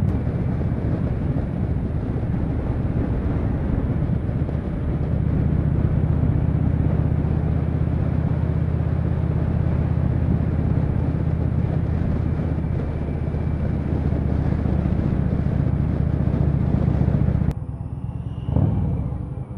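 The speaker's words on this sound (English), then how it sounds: "a lovely ride out in the lovely countryside with some lovely people on lovely motorcycles" Motorcycles ridden on a countryside road during a group ride out, a steady loud engine drone and rumble with wind buffeting, continuous for most of the stretch before cutting off near the end.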